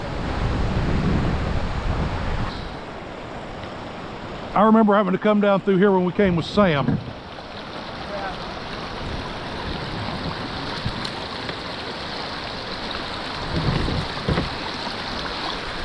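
River water rushing downstream, heard as a steady broad wash under wind buffeting on the microphone, with a voice breaking in briefly partway through.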